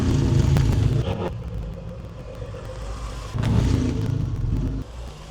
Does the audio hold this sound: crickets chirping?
no